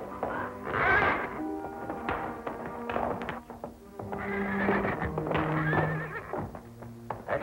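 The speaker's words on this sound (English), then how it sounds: "Nice looking horse." A horse in a 1947 Zorro western film whinnies loudly and close by, with shrill, wavering neighs repeating over several seconds amid hoof thumps and taps.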